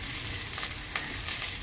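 Pieces of gourd and pumpkin sizzle and fry steadily in a hot pan for a homemade spinach ghonto, a dense, close crackling hiss with small bursts as they are stirred.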